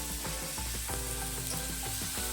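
Chilli chicken with chillies sizzling in a pan, a dense continuous frying hiss close up, with repeated rhythmic scraping stirs through the short stretch and no talking.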